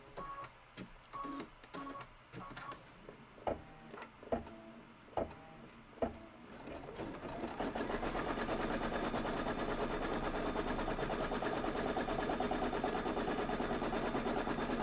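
An embroidery machine stitching a Kimberbell Cup of Cheer design starts with a few separate mechanical clacks and thumps, then settles into a fast, steady, buzzing rattle that runs continuously and loud up close.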